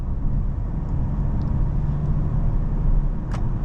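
A car gathers speed up an interstate entrance ramp toward a 55 mph limit, heard from inside as a continuous engine and road-noise rush with a brief sharp click near the end.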